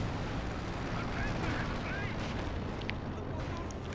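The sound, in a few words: artillery shell explosions in video game Company of Heroes 2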